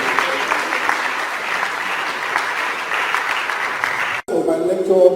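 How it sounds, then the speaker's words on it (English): An audience at a psychiatry lecture in Nigeria claps to welcome a professor. Loud, dense applause runs steadily for about four seconds, then stops sharply, and a voice begins speaking. "Please, with a resounding clap, let us celebrate the presence of Professor Owolabi."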